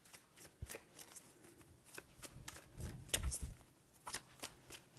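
A tarot deck shuffled by hand up close, quiet repeated riffles and papery flicks, with a fuller bridging burst near the middle.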